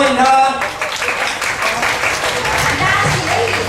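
An audience at a gospel dinner gathering applauds to welcome the lead singer, a steady wash of clapping of moderate loudness under a host's amplified talk.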